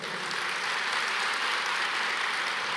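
A church congregation claps steadily, a dense even patter of applause sustained throughout, moderately distant.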